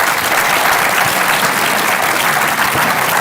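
An audience at the close of a live school panel discussion on religion bursts into loud, dense applause that holds steady throughout, with no talk over it.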